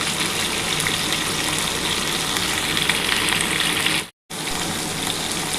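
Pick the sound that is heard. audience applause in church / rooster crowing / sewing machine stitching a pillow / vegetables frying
vegetables frying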